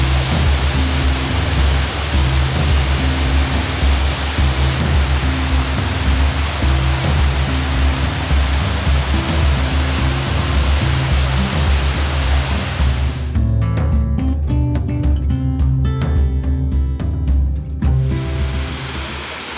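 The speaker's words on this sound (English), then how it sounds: "Ecola Falls" The 55-foot Ecola Falls in the Columbia River Gorge gives off a loud, continuous rushing roar heard up close, with the texture shifting slightly near the end and nobody talking.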